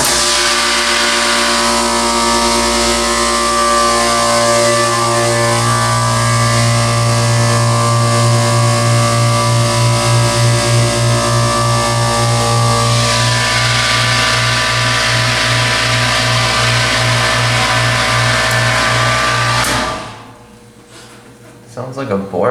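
A Bormax hydraulic elevator pump unit in a machine room runs with a steady, loud mechanical drone and a pulsing low hum for about twenty seconds, then shuts off abruptly, leaving near silence.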